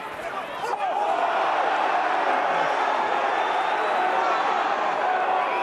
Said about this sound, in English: the crowd reaction to that